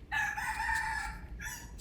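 A rooster crows from the trees at about five in the morning, one long drawn-out call followed by the start of another, fairly faint and at a distance, with no one talking.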